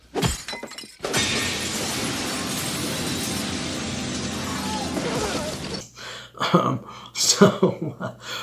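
A window smashes in a scene from the 1988 film They Live, a loud sustained crash of breaking glass lasting several seconds, followed by scattered thuds and sharp noises.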